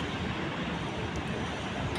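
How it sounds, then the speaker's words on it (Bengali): Steady, close roar of ocean surf and wind on Cox's Bazar beach, a dense, unbroken rush filling the whole moment. "সমুদ্রের ঢেউ, ঠান্ডা বাতাস,"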